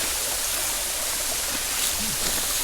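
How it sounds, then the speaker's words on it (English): A rushing stream and surrounding waterfalls roar continuously at close range, a dense, even wash of sound with faint gurgles. "We are surrounded by waterfalls on 3 sides, and we have a beautiful stream."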